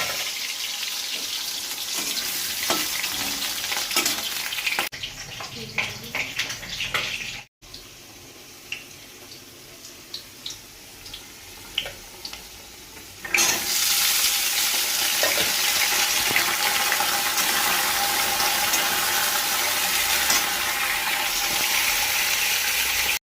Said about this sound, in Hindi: आलू और जो डंटा था वो डाल दी हूँ, डाल के अच्छे से फ्राई करें।